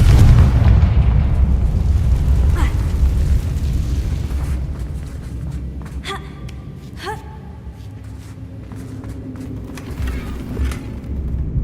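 A Confringo fire spell explosion in Hogwarts Legacy, a loud booming blast that rolls into a decaying rumble, followed by short sharp chiming magical pops and crackles.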